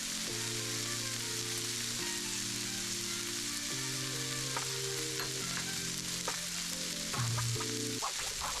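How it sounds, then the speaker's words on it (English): Tonpeiyaki batter sizzles on a hot griddle with a continuous, fairly faint crackle, while light instrumental music plays over it and no one speaks. "Pour 1 scoop of butter onto the griddle and use the back of scoop and spread the butter to oval shape thinly."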